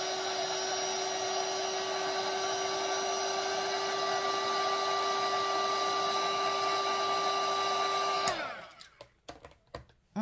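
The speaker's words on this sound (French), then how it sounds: "on prend le heat gun. Alors, attention les oreilles, je vais faire du bruit." Heat gun blowing hot air to dry craft paint on a bookmark, a loud steady whine with a strong tonal hum that runs continuously for about eight seconds, then cuts off abruptly, leaving faint handling clicks.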